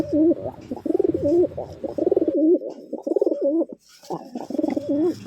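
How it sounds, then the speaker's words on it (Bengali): Pigeons coo repeatedly in close, rolling bursts, several birds overlapping with a brief pause midway before the cooing resumes. "এই যে ছেড়ে দিলাম তো কিছু কবুতর"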